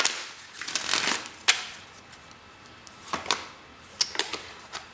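Tarot cards are shuffled in several quick riffling bursts, crisp papery flutters close up separated by short pauses, with a few sharp taps between them.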